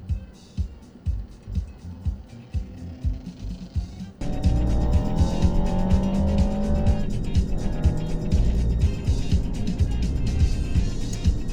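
A car hauls past fast on a North Carolina road, heard from inside a vehicle: intermittent thumps first, then a sudden loud sustained rush of engine and tire noise with a rising whine.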